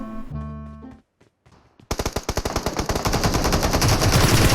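Rapid automatic gunfire in PUBG Mobile against AI bots, a sustained burst of loud, evenly spaced shots after a brief lull, with some quieter sounds before it.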